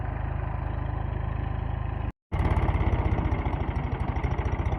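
A tractor engine chugs in a farm field during castor sowing, a steady close low throb with a brief cut in the middle before it resumes just as loud, with no voices.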